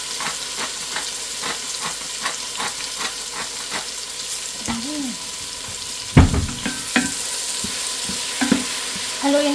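Chicken with black pepper sizzles and fries in a pan, with scraping, clattering spoon strokes as it is stirred; the steady frying hiss runs throughout, a louder clank of utensil on pan comes midway, and there is no talk.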